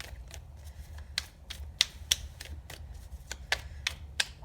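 Tarot cards being shuffled by hand, a series of soft crisp riffles and sharp snaps at irregular intervals, close and clear with no talking.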